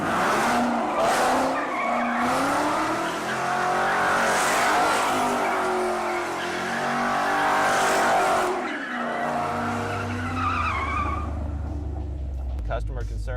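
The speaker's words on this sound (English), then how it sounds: "We're gonna see if it'll do some left-hand donuts now." A custom 2016 Ford Shelby Super Snake swings through left-hand donuts, its engine roaring as the tires squeal loudly and without a break before the sound dies away and a voice talks near the end.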